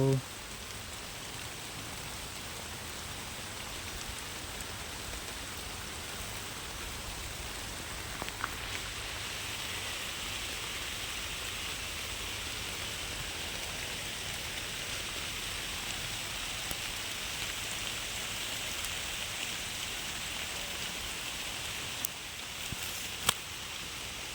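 Steady rain hisses evenly for a long stretch, moderately faint, with a few scattered clicks and knocks over the constant wash.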